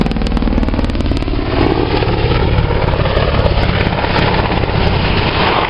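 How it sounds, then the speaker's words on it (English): An Apache helicopter accelerating nose down in a twisting left-hand turn, a loud, dense rotor and engine roar with fast blade chop, sustained and close throughout. "The Apache is going to rapidly accelerate with a 90-degree nose down and a left-hand twist."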